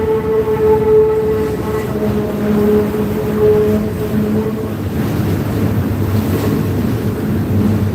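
A CSX freight train with a mid-train DP locomotive rumbles past at close range, a steady low roar of rolling cars with a sustained horn-like tone fading midway, no talk over it.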